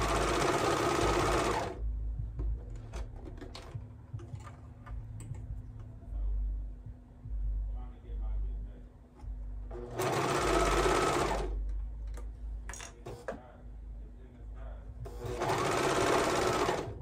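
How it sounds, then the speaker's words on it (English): A serger joins the matched pieces of a baby's bell-bottom pants and waistband in three loud, steady whirring bursts, near and dense, separated by quieter stretches of handling noise and background hum. "and then we're going to serge them together"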